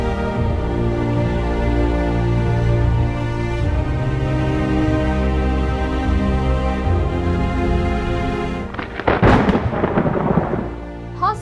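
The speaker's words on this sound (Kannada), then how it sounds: "ಹಾಸನ ಜಿಲ್ಲೆಯಾದ್ಯಂತ ಕುಂಭದ್ರೋಣ ಮಳೆ ಆರ್ಭಟ." A heavy downpour in Hassan district, Karnataka, with a deep, continuous thunder rumble, then a louder burst of rain crackling and spattering on surfaces near the end; no voices.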